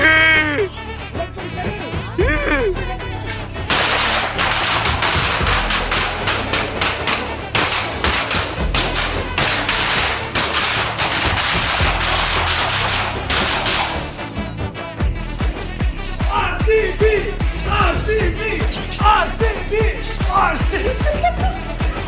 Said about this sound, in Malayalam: അവിടെ വേറെ എവിടെയോ പടക്കം പൊട്ടിക്കാണ് ഗൈസ്